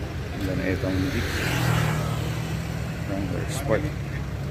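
Jeep Wrangler Sport driving off-road on a lahar trail in a 4x4 convoy, a steady engine rumble and road noise that swells midway, with people talking over it.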